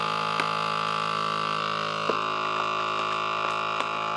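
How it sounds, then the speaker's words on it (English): Vacuum sealer drawing air out of a bag of freeze-dried creamy beef noodles, a steady loud motor hum with faint crackles and ticks as the bag tightens, no voice. "All right, let's vacuum."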